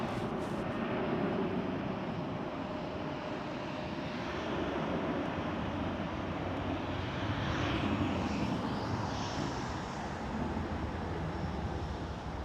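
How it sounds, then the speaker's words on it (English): A steady, loud roar of an American Airlines Boeing 787 Dreamliner departing Schiphol airport in Amsterdam, a broad continuous rumble holding level for the whole stretch with a faint rising whine on top, no voices. "we'll wait for the American Airlines Dreamliner to depart"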